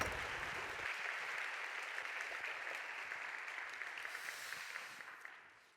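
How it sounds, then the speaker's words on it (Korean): A Korean church congregation gives a round of applause during a worship service, thick sustained clapping that stays strong and then tapers away toward the end. "한 번 더 박수해 주셔서 좋을 것 같은데."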